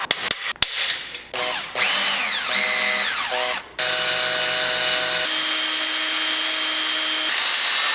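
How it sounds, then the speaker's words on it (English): A power drill boring out broken exhaust downpipe studs on an N55 BMW 335i E92, with short clanks and bursts at first, then long, loud, steady whining drill runs that shift pitch as the bit bites. "I'm going to be cutting off these studs and then drilling them out so that I can just put bolts through"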